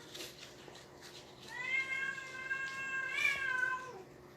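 A mother cat meows twice, a drawn-out, fairly close call followed by a second, stronger one, in a quiet indoor room.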